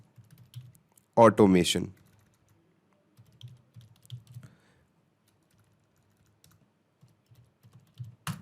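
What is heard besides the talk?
typing on a computer keyboard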